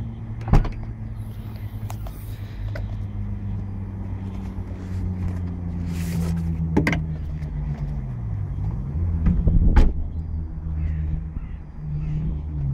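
A Renault ZOE electric car being moved from a rapid charger: a steady low drive hum with a rising and falling motor whine, occasional light clunks and a sharper knock near the end, with no talking.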